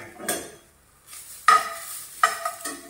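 Grated coconut being roasted in a pan for chutney, with a few sharp scraping stirs of a spoon against the pan over a soft, dry sizzle.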